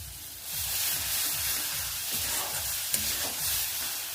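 Grated coconut stirred into melted jaggery in a pan over low flame, a steady close sizzle with rhythmic scraping strokes repeating about twice a second.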